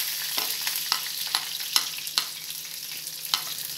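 Onions, cumin and mustard seeds frying in hot oil, a continuous close sizzle broken by frequent sharp little pops and crackles at an irregular pace.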